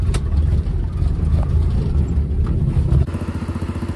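A Jeep Rubicon's engine running loud and close while stuck on a rocky off-road trail, a rough steady low rumble that shifts to a pulsing idle near the end.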